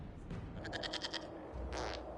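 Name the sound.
goat bleating, from the video game Dragon Age Inquisition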